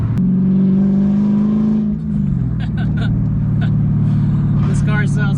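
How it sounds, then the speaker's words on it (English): A Mercedes E55 AMG with a swapped-in manual gearbox drives along, its engine holding a steady low drone, then easing off as the pitch drops, with a voice talking over the cabin hum. "This car sounds so good."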